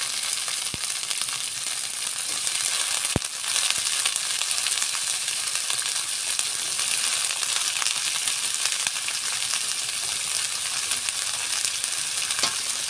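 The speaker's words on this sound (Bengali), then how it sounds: "আমাদের পেঁয়াজ রসুন ভাজা ভাজা হয়ে গেছে। আমি উপর দিয়ে করলা আলু দিয়ে দিব।" Bitter gourd and potato sizzle in hot oil over fried onion and garlic, a dense, even hiss held close and loud throughout, with a couple of sharp utensil clicks early on.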